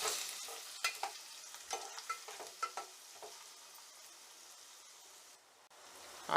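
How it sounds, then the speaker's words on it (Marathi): Chopped onion with green chilli sizzles and fries in a hot pan, stirred a few times with sharp spoon scrapes early on before settling into a steady, close crackle. "आणि हा कांदा छानपैकी आपण परतून घेऊयात."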